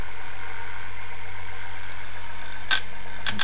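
A mini window motor on an experimental three-phase chassis runs from a Bedini SSG monopole circuit with a steady low electrical hum and whine. A couple of brief clicks come near the end, and no one speaks.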